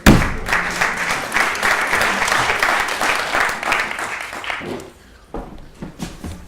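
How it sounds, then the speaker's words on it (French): Audience clapping for Julien Gauduchot at a bar-set business talk, a loud burst that holds steady before fading out near the end, leaving a brief lull and a few scattered claps. "Applaudissements pour lui, s'il vous plaît."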